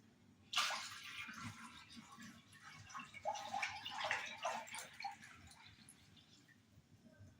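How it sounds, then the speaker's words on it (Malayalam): Milk poured into water in a pot while making palada pradhaman for Onam, a splashing liquid pour that starts suddenly and trickles on for several seconds before tapering off, close and fairly quiet. "അതിലേക്ക് നമുക്ക് പാല് ഒഴിച്ചു കൊടുക്കാം"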